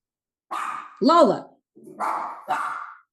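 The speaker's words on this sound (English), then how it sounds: "I got to make sure we cut this out because of my dog" A dog barking indoors, four separate barks and yips close by with brief gaps between them, heard alone.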